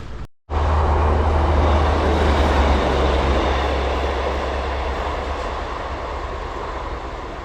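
A train on the railway line to Matlock rumbles past beside a canal towpath, a loud, sustained roar that starts abruptly and fades slightly as it goes by.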